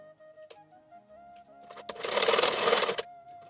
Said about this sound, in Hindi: तो सूट को अब सिल लेते हैं ना।